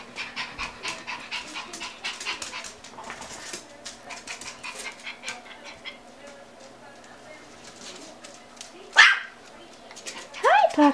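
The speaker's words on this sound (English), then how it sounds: "Hey, puppies." Puppies panting rapidly in quick repeated breaths, close and soft, with a sharp bark near the end and more yelps after it, while a person talks and birds call faintly in the background.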